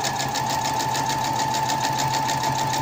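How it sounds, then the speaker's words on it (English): A sewing machine runs steadily, stitching along a length of yellow ribbon, its close, loud rapid needle rhythm and motor hum continuing without pause. "I'm going to do two stitches forwards and then two stitches backwards, and that's a securing stitch"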